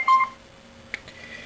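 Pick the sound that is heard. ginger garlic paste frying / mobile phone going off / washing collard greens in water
mobile phone going off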